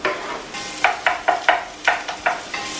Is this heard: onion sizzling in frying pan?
yes